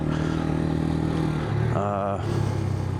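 A Suzuki TU250x motorcycle being ridden and shifted through gears gives a steady, close engine drone with a brief rising rev change midway, while a rider talks over it throughout.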